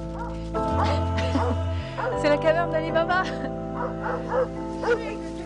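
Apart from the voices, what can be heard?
stray forest dogs barking at feeding van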